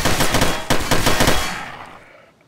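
Rapid automatic gunfire in a video game rattles loudly up close in a dense burst of shots, then dies away into a fading echo.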